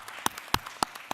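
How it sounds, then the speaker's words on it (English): A few sparse, separate hand claps at a county board of commissioners meeting, about four sharp claps in just over a second, fairly faint. "I want to interrupt you to give you a round of applause."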